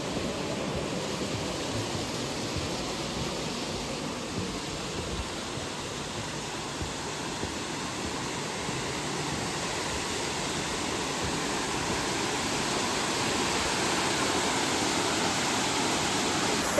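A Newfoundland waterfall roars as a steady, dense broadband rush of falling water, close and continuous throughout with no voices over it.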